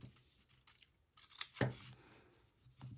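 Scissors snip through folded regular printer paper in a few short, crisp cuts, close and fairly quiet, with no talking.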